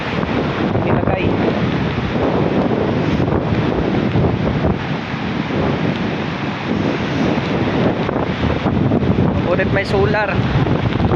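Strong wind and rain lash the seashore at Balingasag, Misamis Oriental, a constant loud roar of gusts buffeting the microphone over crashing surf, with a voice speaking briefly amid the storm.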